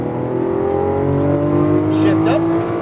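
A Lamborghini Aventador accelerating on a race track, its engine a loud, steady, close roar with layered harmonic tones rising slightly as the throttle is squeezed through the corner exit.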